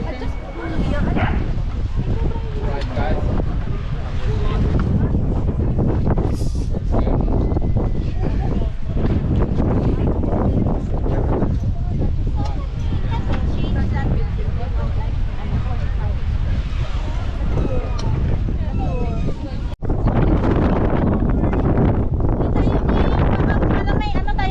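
Wind blows hard across the microphone in a constant rumble in Cornwall, England, while a dog barks and people talk nearby.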